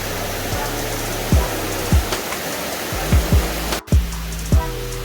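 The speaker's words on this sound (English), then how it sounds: "Alright, another waterfall here." Continuous broadband rush of a waterfall at a camping spot, loud and steady, with repeated low thumps and a brief dropout interrupting it, no talk.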